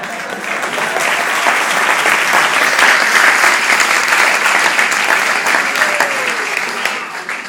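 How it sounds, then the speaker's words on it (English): Loud, sustained applause from an audience at a speech, steady dense clapping filling the whole stretch without a break. "If I keep getting applause, I'm going to talk too long."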